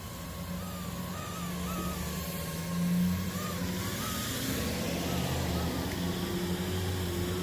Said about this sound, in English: Got some traffic out here.